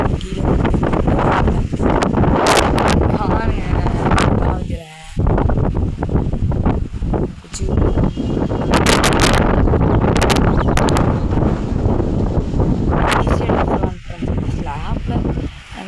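Strong wind in a village buffets a phone microphone with loud, continuous roaring rumble that gusts and dips briefly, with voices faintly mixed in.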